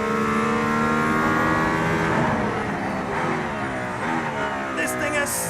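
A Mercedes-AMG ONE hypercar accelerates hard around the Barcelona race circuit, its engine a loud, close, continuous roar with harmonics that climb and shift in pitch through the run.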